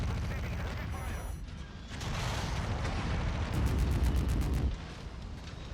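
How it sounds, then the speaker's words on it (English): In a mech video game, an AC-20 autocannon fires in bursts that land as heavy, booming concussive blasts, with a dense rolling barrage near the end amid battle noise. "It's an AC-20 burst fire."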